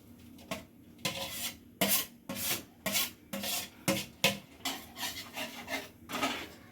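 A spoon works grated paneer into thickened, reduced milk in a pan, scraping and rubbing against the metal in a steady series of close, rhythmic strokes with no talk.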